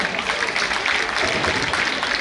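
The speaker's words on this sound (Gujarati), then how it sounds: "પ્રોત્સાહન માટે ખૂબ તાળી પાડો." A crowd claps for a women's group at a Satsangi Jivan recitation's cultural evening in Naranpar, a dense, steady wash of applause that holds for the whole stretch.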